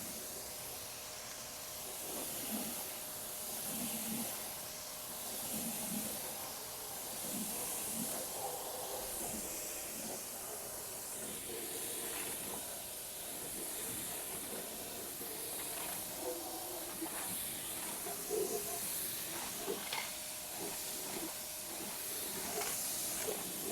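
A pressure washer sprays a steady rinse over a Cadillac Escalade during a full detail, a continuous hiss of water spray with a faint mechanical hum underneath, close and even throughout with no talking.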